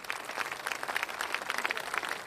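Studio audience applause on a Tamil television couples game show, a steady dense patter of many hands clapping at moderate volume without a break.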